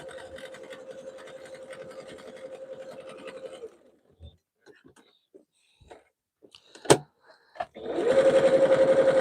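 A sewing machine chain-pieces fabric soup bowl cozies with a fast, even, close mechanical whir. It stops after about four seconds, leaves a quiet gap with scattered small clicks and handling noises, then starts stitching again.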